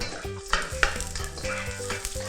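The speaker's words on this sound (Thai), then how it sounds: "ผัดให้กระเทียมกับหอมใหญ่นะครับโดนความร้อนระดับหนึ่งเพื่อให้เกิดกลิ่นและรสชาติที่ดีนะฮะ" Garlic and onion stir-fry in olive oil, a close, soft sizzle under rhythmic scraping and tapping of a spatula against the pan, with no talking.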